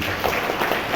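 Applause from an audience at a police traffic-camera event in Ambon, Maluku, a brief dense wash of clapping filling the moment without speech.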